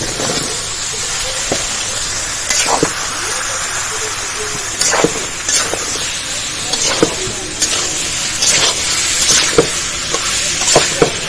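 Chopped ridge gourd and vegetables go into a sizzling prawn curry and get stirred, a steady hiss of frying punctuated by repeated loud spoon clanks and scrapes against the pan, close up.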